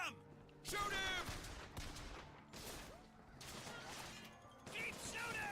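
Rapid gunfire from shooters in the video game BioShock Infinite comes in bursts and volleys, with loud shouting voices breaking in between the shots.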